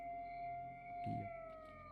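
Steady electronic siren wailing in STALKER: Shadow of Chornobyl, a sustained tone held through the clip with a brief low thump near the middle.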